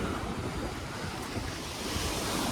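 Sea waves crash steadily onto a beach at Kodungallur, a dense, continuous roar of surf mixed with wind buffeting the microphone, with no voices.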